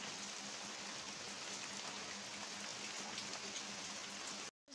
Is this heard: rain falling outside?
yes